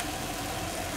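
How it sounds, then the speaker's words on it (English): A school bus engine idling outdoors, a steady low rumbling drone that fills the whole second without variation, moderately loud and continuous. "Oh, is that a school bus?"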